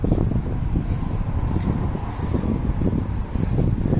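Strong wind buffeting the microphone in a constant low roar on a windy Cherkasy street, with faint traffic noise blending in underneath.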